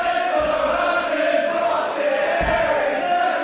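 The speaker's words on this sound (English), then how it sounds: "I hear slightly more cheers for Mark Haskins" A packed wrestling crowd in a small venue roars for Mark Haskins with a steady, dense wall of cheering and shouting that never lets up.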